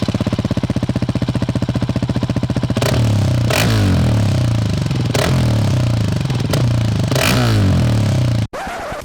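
A stock KTM 690 SMC R single-cylinder motorcycle engine idles with a loud, close, fast thumping, then is revved repeatedly in sharp blips that rise and fall back, before cutting off abruptly near the end.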